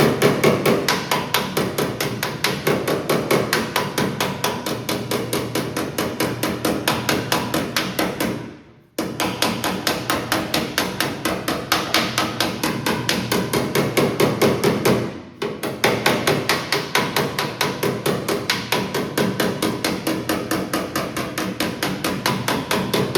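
Hammering a high spot down on a thin aluminum body panel of a 289 Cobra, a fast, steady stream of close metallic taps that stops briefly twice before resuming.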